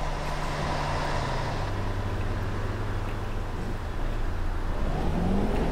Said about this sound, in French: Donc je suis avec le Citaro C2 avec les sons de Morphy